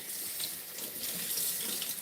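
Water running steadily from a tap onto indoor garden plants during a soap rinse, a continuous close splashing hiss with no voices.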